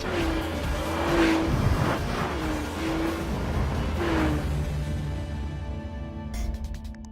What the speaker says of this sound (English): This gives the NSX ballistic pickup at any speed